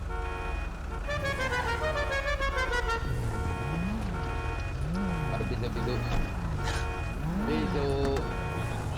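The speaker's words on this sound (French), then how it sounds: "Arrêtez de klaxonner." Several car horns honk and toot in the video game GTA V roleplay, over continuous game engine and traffic noise, with someone talking in French throughout; steady loud background.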